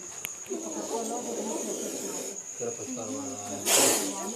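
A large cobra caught in Dibai gives sharp, breathy hisses, one brief burst early and a louder, longer one near the end, while someone talks throughout.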